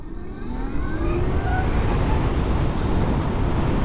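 A Zero FXS electric motorcycle accelerates hard, its rising motor whine climbing steadily over loud, constant wind and road roar close to the rider, with no engine note or gear changes.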